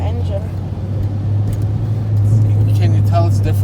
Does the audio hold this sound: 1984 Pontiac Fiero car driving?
yes